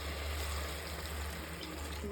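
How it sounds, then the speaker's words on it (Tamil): Water pours steadily into a container of soaking rice, a continuous close splashing rush without pauses. "இதுலேயே நான் 4 கிளாஸ் அளவுக்கு தண்ணி ஊற்றுறேன்"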